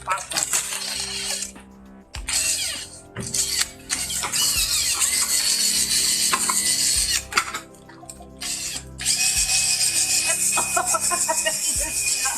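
A drill with a step bit bores through scrap metal, giving a loud, piercing squeal that starts and stops in bursts with short pauses, along with metallic clatter and scraping from the workpiece.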